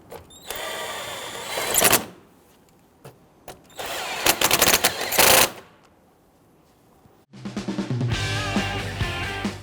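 A power tool runs down two 10mm battery hold-down bolts on a 2011-2017 Nissan Quest, in two loud, close, rattling bursts of about two seconds each, separated by quiet handling; a different steady mechanical noise follows near the end.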